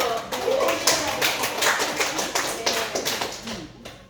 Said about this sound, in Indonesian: Oke, berikan aplaus dulu